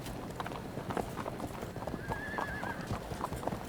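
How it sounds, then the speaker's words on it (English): Horse hooves clip-clop at a steady, brisk rhythm in a video game, with a brief whinny-like tone in the middle and light background noise throughout. "Do I hear horse?"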